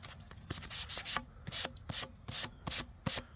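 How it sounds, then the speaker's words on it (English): White bonding primer on an Estes Hi-Flier XL model rocket is sanded by hand in quick repeated strokes, a close, dry, rhythmic scratching of about a dozen rubs at a brisk, slightly uneven pace. "I really don't know how sandable this white bonding primer is"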